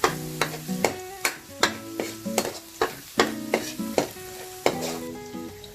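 Garlic sautéing in pork fat in a pan: a steady sizzle broken by about a dozen sharp, rhythmic scrapes and clanks of a utensil stirring against the pan, with no voices.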